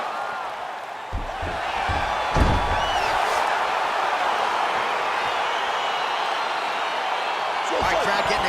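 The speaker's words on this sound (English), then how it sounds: "crowd getting excited as this fight gets underway" Arena crowd in the UFC 4 video game building excitement as a fight begins, a steady roar of cheering and whoops with occasional thuds, under a commentator's voice.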